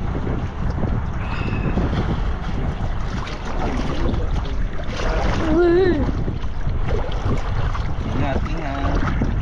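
A boat pushing through big waves on Taal Lake, with loud wind buffeting and splashing water throughout while people talk and shout aboard.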